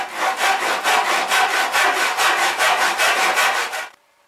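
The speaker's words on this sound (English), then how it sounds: "So the first task is to cut off this pallet" Rhythmic back-and-forth strokes of a hand saw cutting through a wooden pallet slat, about a dozen close, loud rasping passes before stopping abruptly.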